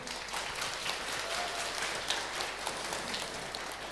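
Steady applause from an audience after a talk at an educational event, a dense even patter of clapping throughout with no voices standing out.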